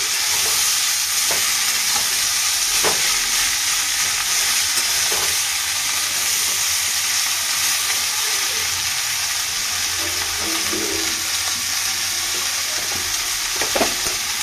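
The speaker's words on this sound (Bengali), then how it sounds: "এই যে কলার মাজা দিয়ে মুড়ো দিয়ে চচ্চড়ি করছি" A fish head chochori cooked with banana stem hisses steadily in the pan, loud and close, with soft stirring scrapes now and then under the constant sizzle.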